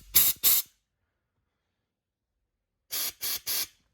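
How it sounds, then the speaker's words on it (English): Compressed air blasts through a 47RE/48RE automatic transmission cooler fitting on the bench: two short bursts, a long pause, then three more, each a loud, close hiss. "So that's just gonna blow air out the front."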